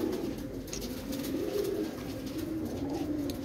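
Pigeons coo continuously in rainy weather, a low rolling burble repeating steadily at close range over soft background noise, with no talking.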